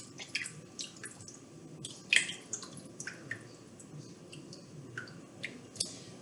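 Homemade chicken broth pours from a carton into a pan for giblet gravy, giving soft, faint splashes and drips with a few sharper glugs scattered through a quiet kitchen.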